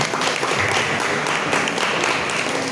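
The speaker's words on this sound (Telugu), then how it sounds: "వారికి ఒక అప్లాజ్ చేయాలి" A lecture audience in Rajahmundry claps together in a steady, dense burst of applause that holds at an even level throughout the short stretch.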